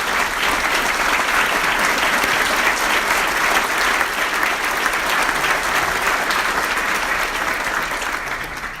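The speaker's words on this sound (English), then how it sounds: "I'd like to give these 2 chiefs, if they'd stand, a round of applause for their hard work." A large audience at the Bridgeport State of the City address applauds two standing fire chiefs, a dense, steady roar of clapping that holds loud for about nine seconds and eases slightly at the end.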